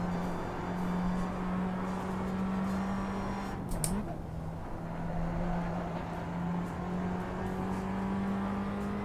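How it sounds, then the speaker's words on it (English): Race car engine in the iRacing sim droning steadily at a constant pitch, with a brief burst and pitch drop around the middle as the driver downshifts, then settling back into a steady hum. "That's for me downshifting."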